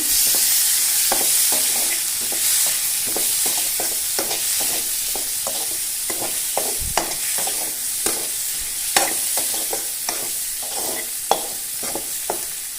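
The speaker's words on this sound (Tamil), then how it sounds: "கொஞ்ச நேரம் வதங்கட்டும்." Green chillies and other chutney ingredients frying in a pan for coriander chutney, a constant close sizzle broken by frequent sharp clicks and scrapes of stirring throughout.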